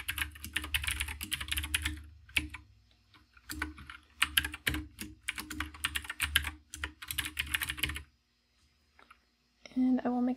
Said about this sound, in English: So let's type a for each loop.